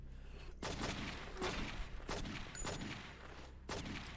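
Gunfire at a shooting test in True Crime: New York City, repeated loud bursts of shots in quick succession, dense and continuous with brief gaps.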